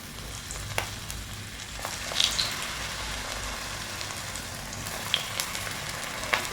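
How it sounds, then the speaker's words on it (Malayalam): Papad samosas deep-fry in hot oil with a continuous crackling sizzle and scattered sharp pops, close and steady throughout. "ഇനി നമുക്കിത് വറുത്തെടുക്കാം. സമൂസ വറുക്കാനുള്ള എണ്ണ ചൂടായി വന്നിട്ടുണ്ട്."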